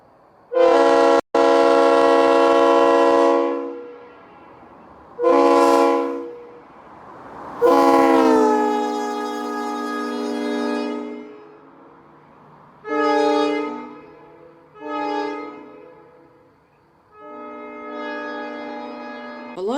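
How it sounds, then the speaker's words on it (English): A loud Leslie S3L locomotive air horn on an EMD GP9 sounds in a series of blasts, some long and sustained, others short, with a rich multi-chime tone. "They were equipped with a Leslie S3L air horn."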